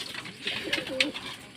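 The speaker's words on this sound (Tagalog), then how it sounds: "Grabe, nakauwi yung ibon natin doon na si Himala ha mga kapakpak." A racing pigeon, a race champion, coos nearby in a few soft, throaty rolling phrases, close and clear against a quiet background.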